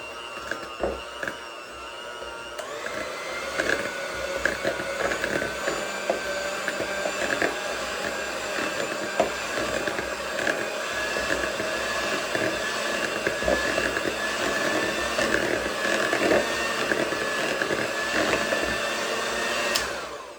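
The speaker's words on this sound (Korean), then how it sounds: "믹서기를 사용해서" A steady electric mixer whirs continuously near at hand, creaming butter into cookie pie dough, with faint scraping and knocking from the bowl throughout.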